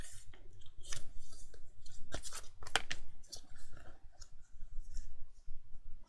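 Paper bag album pages with adhesive are folded over by hand, making crisp crinkling, crunching and clicking paper sounds in irregular bursts, close and fairly loud, with a voice faintly underneath at moments.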